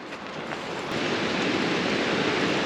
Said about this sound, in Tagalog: Naririnig ko na agos ng ilog